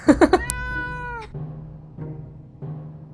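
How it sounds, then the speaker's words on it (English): An angry house cat screeches in the survival game 60 Seconds: a few sharp yowls, then a long loud rising-and-falling meow and lower growling cries, close and alone. "When the beast finally escaped, it turned out to be just an angry house cat."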